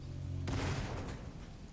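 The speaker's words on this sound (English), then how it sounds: "We're about to hear another boom from the cannon." A single heavy cannon boom in the video game Sniper Elite 5 hits suddenly and loudly, then rolls off in a long, broad rumble over steady background noise.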